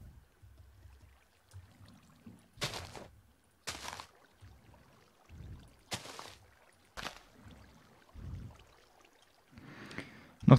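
Water blocks being placed in Minecraft sound as short, separate gurgling splashes at irregular intervals, fairly quiet, with soft low rumbles and small clicks between them.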